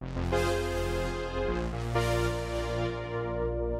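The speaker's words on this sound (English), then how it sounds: "Here's synth brass." Bright synth brass chords from a Yamaha YC88 stage keyboard sound in two bold swells, the second entering about halfway through, sustained and fairly loud with no voices.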